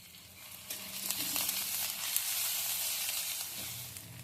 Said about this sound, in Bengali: আদাটা একটু ভেজে নিচ্ছি